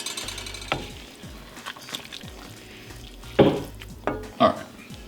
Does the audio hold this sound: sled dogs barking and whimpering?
no